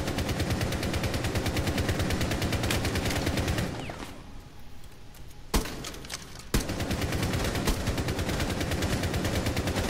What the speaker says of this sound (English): Is that you firing?